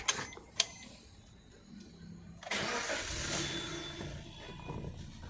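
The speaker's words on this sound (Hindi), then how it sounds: "इंजन को अब स्टार्ट करेंगे।" Suzuki Ertiga Smart Hybrid car starting: a couple of faint clicks, then the engine catches with a burst and settles into a steady idle, heard at close range.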